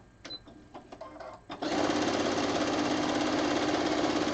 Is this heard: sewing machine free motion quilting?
yes